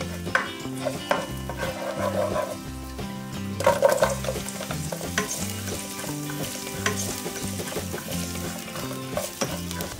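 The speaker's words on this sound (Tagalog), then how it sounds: "Lagi kong inuuna sa pagigisa is yung bawang, pagkatapos yung sibuyas." Garlic and then onion sautéing in a pan for kare-kare sauce, a steady sizzle with stirring scrapes, heard beneath continuous background music.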